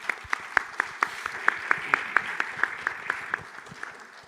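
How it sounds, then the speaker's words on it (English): A small conference audience applauds the chief croissant officer with distinct, evenly spaced claps that form a fairly sparse rhythmic patter, moderately close, tapering off at the end. "big applause to our chief croissant officer"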